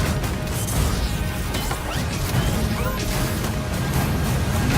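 A superhero fight scene from Civil War, with shield blows, crashes and whooshes packed into a loud, continuous action mix and no clear gaps.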